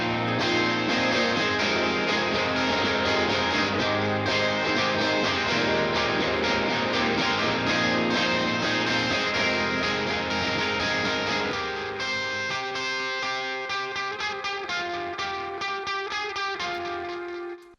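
A sustained, distorted electric guitar lead through a Memory Man delay pedal rings over a dense full-band mix, its notes smeared by echo repeats that thin out as the music fades near the end.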